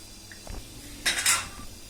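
Chopped onion, ginger and garlic go into a pot of water for chicken stock for pulao, giving a few brief metallic clinks and a short clatter of utensil against pot, fairly close, with no talking.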